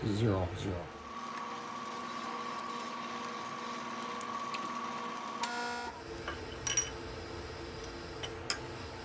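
A 1/2 inch reamer cuts a hole in a workpiece on a machine, giving a steady tonal whir for several seconds that drops away, followed by a few faint clicks and a sharp tick.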